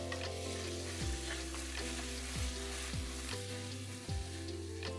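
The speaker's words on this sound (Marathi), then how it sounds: "खडे मसाले थोडे परतून घेऊ आणि यात आता आपण तांदूळ परतून घेऊ।" Rice with whole cardamom, cloves and a cinnamon piece being sautéed in ghee for jaggery coconut rice, a soft steady sizzle under repeated spatula strokes, with a low hum in the background.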